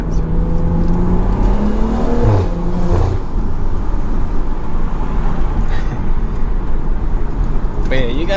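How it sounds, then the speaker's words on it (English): Tuned Stage 2+ BMW with a loud aftermarket exhaust, heard from inside while driving: a steady engine drone with a rising rev sweep early on, continuous and loud throughout. "you can hear the car way better with it"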